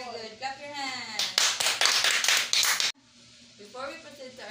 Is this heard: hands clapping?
yes